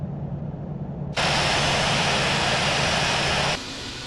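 A jet airliner's engines hum and roar during taxi at Frankfurt airport in the Infinite Flight simulator. A steady low drone suddenly jumps to a bright, loud rushing whine, holds for a few seconds, then drops back, with no voices over it.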